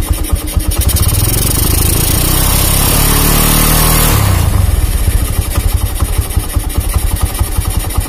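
A Honda Megapro motorcycle engine revs hard from idle, holding a loud, steady roar for a few seconds before dropping back to a rough, pulsing idle, heard up close with no talking.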